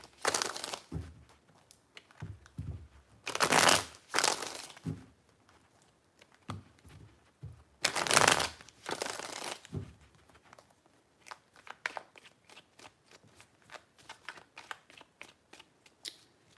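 Tarot cards shuffled by hand in repeated bursts of crisp riffling and sliding, some long and loud, others quick, soft flicks, with no talking.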